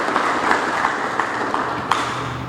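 Light applause at a fire station opening ceremony, a modest crowd clapping with a few sharper individual claps standing out in a loose rhythm, fairly close and without talk.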